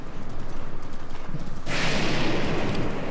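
A horse gallops in the video game Breath of the Wild, with steady rhythmic hoofbeats throughout and a brighter rushing noise joining halfway through.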